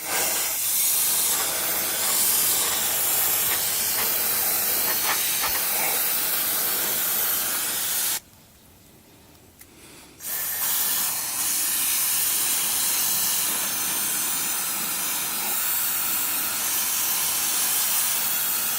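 Aerosol foam cleaner hisses steadily from a can onto an air conditioning unit, a loud continuous spray that cuts off for about two seconds midway and then resumes without any talking.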